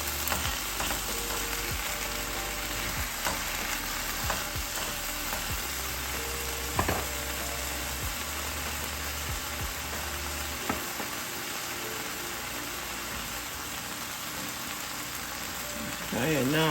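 Okra fries in a pan with a constant crackling sizzle, punctuated by occasional scrapes and taps as the pieces are moved around, steady and moderately loud without speech.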